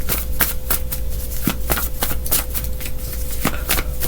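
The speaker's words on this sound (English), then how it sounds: "let's pull some of these cards here and see what they say" Tarot cards shuffled by hand in a quick, steady flurry of riffling snaps, close and fairly loud, continuing alone without any talking.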